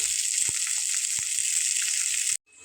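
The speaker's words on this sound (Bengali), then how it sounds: "মাছের মাথাটা কিন্তু একটু ভালোভাবে ভেজে নিতে হবে তার জন্য উল্টো পাল্টে আমি এটাকে একটু ভেজে নিচ্ছি" A fish head fries in hot oil in a wok, giving a loud, continuous hiss and sizzle with a few soft knocks underneath, then it cuts off abruptly near the end.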